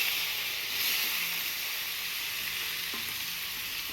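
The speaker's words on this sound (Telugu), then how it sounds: "ఇప్పుడు ఇందులో ఆనియన్స్ వేస్తున్నాను, అలాగే కొత్తిమీర కూడా వేసేసుకుంటున్నాను." Onions and coriander leaves frying in a pan give a steady, close sizzle with constant bright hiss and faint scraping, no voices.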